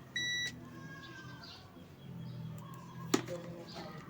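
A single short electronic beep from a multimeter's continuity buzzer sounds near the start, followed by quiet room noise and a sharp click later on, while wiring an XLR to RCA cable.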